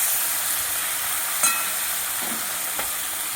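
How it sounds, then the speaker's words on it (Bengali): Salted, turmeric-coated koi fish frying in hot oil, a steady close hiss and sizzle with a few small pops and spits, no voices. "এখন আমি মাছগুলোকে ভেজে নিচ্ছি।"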